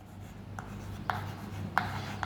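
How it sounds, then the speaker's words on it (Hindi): Chalk or marker writing a non-homogeneous differential equation on a classroom board, with soft scratchy strokes and a few sharper taps against a low hum, no talking. "मैं आपके सामने एक नॉन होमोजीनियस इक्वेशन लिख रहा हूं"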